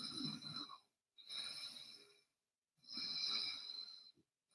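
Ujjayi-style yoga breathing with the mouth closed, a soft snore-like ocean breath: three slow, airy breaths, one exhale, a long inhale and another exhale, separated by brief pauses, close and fairly quiet, with no talk.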